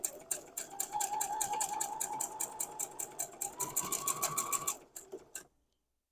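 A sewing machine stitches a quilt four-patch block with a fast, steady, close mechanical chatter that runs for about five seconds, then slows and stops into silence.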